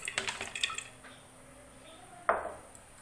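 Soaked chana dal tipped into a pressure cooker: a close cluster of wet, squishy taps and light clinks at first, then a quiet stretch and one soft wet thud near the end, with no talking.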